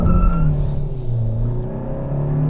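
Turbocharged Hyundai hybrid floored with the wheel turned, a loud close engine rumble and rising drone with faint tire scrub, no talking.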